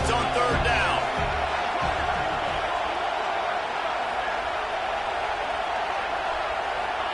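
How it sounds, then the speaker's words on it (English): A college football stadium crowd at Miami versus USC roars for the defense on third down, a dense sustained wall of cheering and whooping that holds steady throughout, loud and enveloping, with brief speech early on. "Decibels rising as the crowd gets behind this defense on 3rd down"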